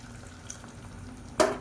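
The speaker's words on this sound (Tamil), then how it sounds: "கிரேவிக்கு தேவையான அளவு தண்ணி சூடு பண்ணிவிட்டு சேர்த்துக்கோங்க" Hot water poured into a frying potato masala gravy for chapati and poori: a quiet low bubbling, then a sudden loud hissing splash near the end as the water hits the hot pan.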